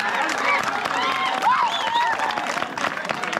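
A crowd at a village kabaddi final claps and cheers in a steady wash of applause, while an excited commentator talks loudly over it.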